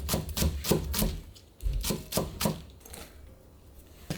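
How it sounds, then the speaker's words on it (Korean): A kitchen knife finely chops raw spinach on a cutting board, a run of quick, crisp taps near and clear, then a short pause before a second burst of chopping trails off into quiet. "시금치는 손질한 다음에 잘게 썰어 줄 거예요."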